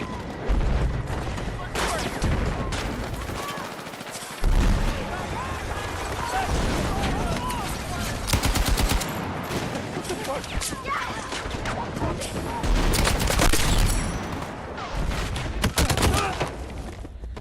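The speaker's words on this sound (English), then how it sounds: "That tank is wreaking havoc." Tank guns firing in a video game, with rapid bursts of gunfire and heavy blasts in bunches throughout, under a voice talking over the action.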